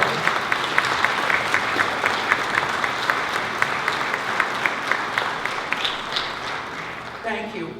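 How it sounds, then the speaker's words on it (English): An audience at a Red Cross Heroes awards event in Delaware, Ohio applauds in a sustained, even round of clapping from a sizable crowd, tapering off near the end as a voice begins. "please join me in a round of applause for Honda of America"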